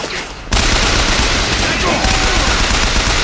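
Rapid automatic gunfire in BioShock Infinite breaks out suddenly after a brief quiet moment, then continues as a loud, dense burst of shots.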